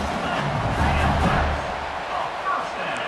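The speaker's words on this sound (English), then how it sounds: "Tremendous crowd atmosphere now in the final minute of play" A football stadium crowd at a UCLA versus Michigan game roars steadily, with swells of cheering in the final minute of play, under continuous commentator talk.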